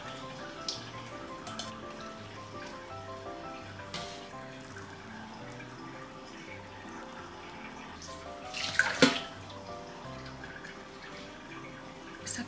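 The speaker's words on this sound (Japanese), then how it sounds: "何回かお湯にくぐらせるんだって" Vegetables for homemade baby food are dipped repeatedly into hot water in a kitchen, producing soft trickling and dripping sounds, quiet sloshes, and one brief louder splash of water.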